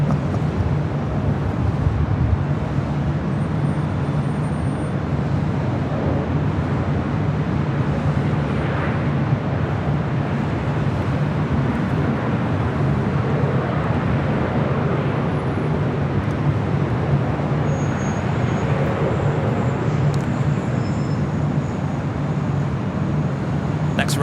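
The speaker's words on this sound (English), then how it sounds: "next arrival on the north side, Spirit Airlines Flight 141 coming in from Baltimore. It's an A319." A Spirit Airlines Airbus A319 on arrival at LAX, inbound from Baltimore: a steady, loud jet roar with broad rumble that holds evenly throughout, wind buffeting the microphone and distant traffic mixed underneath.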